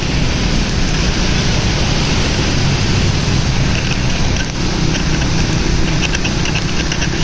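A motorbike speeds along a wide, flooded Karachi road in a heavy storm, its tyres throwing up water in a constant loud wash of spray and rain, with no voices.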